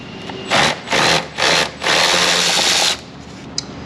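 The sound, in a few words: power tool removing T25 Torx screws from MINI Cooper airbox lid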